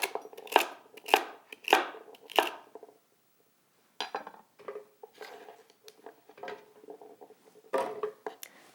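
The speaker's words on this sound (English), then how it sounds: "I'll just coarsely chop this." Zucchini and celery being coarsely chopped on a cutting board: a knife strikes in quick bursts of sharp, close taps, a short pause, then another run of chops, with no talk.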